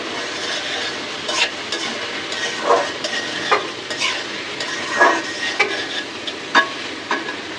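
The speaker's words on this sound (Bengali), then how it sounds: "এই যে আলুটা পেঁয়াজটা সুন্দর ভাজা ভাজা হয়ে গেছে" Potatoes and onions frying in a pan for a bitter gourd dish, a continuous close sizzle punctuated by repeated scraping and clinking stirring strokes of a spatula against the pan.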